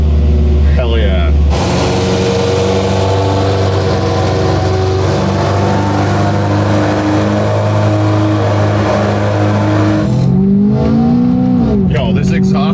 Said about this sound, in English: this exhaust note sounds crazy